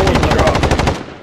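Rapid automatic gunfire in Call of Duty: Modern Warfare, a dense burst of about a dozen evenly spaced loud shots over one second, ending in a short decaying tail.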